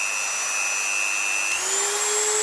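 A Dremel 3000 rotary multitool screams at full speed, a loud, close, continuous high whine with a steady tone that shifts pitch slightly partway through, alone without speech.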